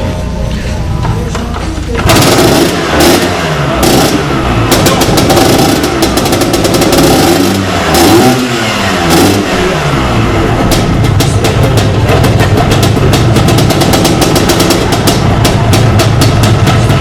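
An Italian motorbike engine fires up after a brief quiet moment, then runs loudly nearby with a rough, throbbing idle and a few surging revs before settling into a steady drone.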